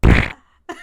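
A short, loud, buzzy fart burst that cuts off sharply, followed after a brief pause by a second, weaker fart-like sound.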